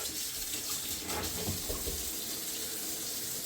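Hot water running steadily from a tap into a sink, a constant close rushing splash with no voices.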